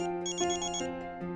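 A mobile phone plays a melodic electronic ringtone in a Hindi TV serial, its bright tones stepping in a short, clear sequence with no one talking.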